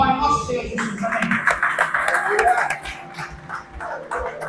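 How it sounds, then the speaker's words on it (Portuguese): A church congregation claps during a worship service, a steady patter of many hands carrying on beneath a voice that keeps speaking. "Dá aí uma salva de palmas para o nosso Deus, Jesus."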